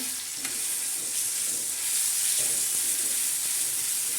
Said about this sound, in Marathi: आता हा ठेसा आपण तळणार आहोत